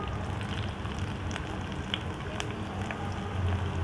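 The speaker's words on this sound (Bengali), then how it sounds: "তেলটা গরমে আছে, আমি পেঁয়াজটা আগে দিয়ে দিচ্ছি" Onions sizzle and crackle steadily in hot oil as the base of a chilli garlic fish gravy is started. The frying noise is continuous and moderately close, with faint pops scattered throughout and no talking.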